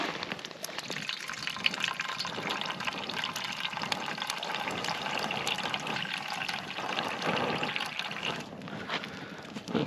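Boiling water is poured to steep coffee at a desert motorcycle campsite in the Mojave: a continuous close gush and trickle of liquid filling a container runs the whole time, with no talking.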